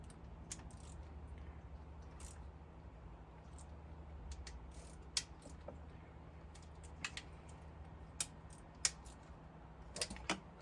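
A ratchet snugs down the thermostat housing bolts on a 3.6L Jeep Wrangler, giving faint, scattered clicks over a low steady hum, with a few sharper clicks toward the end.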